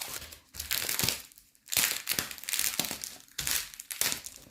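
Close, loud crinkling and crushing of plastic packaging as scrapbooking papers are pulled out, coming in several bursts with short pauses between them and no talk.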